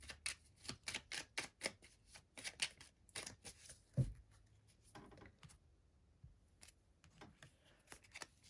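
Oracle cards are shuffled and drawn, with a quick run of crisp riffling flicks followed by scattered soft slaps and slides. The sounds are close and quiet, and no one speaks.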